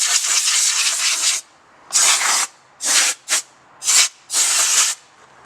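Compressed air at about 100 PSI blasts through a car's interior vents in five or six loud, close hissing bursts of varying length, separated by short quiet gaps, with no talking.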